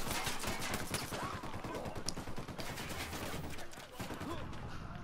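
Gunfire in the video game Ghost Recon Wildlands: rapid, dense bursts of shots in quick succession, loud and close, running almost without a break.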